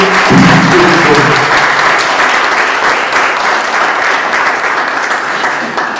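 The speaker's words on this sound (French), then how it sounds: "je vous demanderai de vouloir applaudir chaudement la compagnie de Réseau NACOM" Warm audience applause at the inauguration of a computer lab at a high school, loud and continuous clapping from an assembled crowd, opening with a faint voice underneath before settling into an even, sustained wash.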